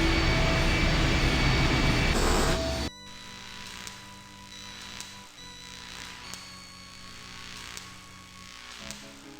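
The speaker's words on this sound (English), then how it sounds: "The engine's starting up again." Machine engine starting up in the video game I Have No Mouth and I Must Scream: a loud, dense mechanical roar fills the opening seconds, then cuts off sharply into a low, steady hum with faint intermittent clicks.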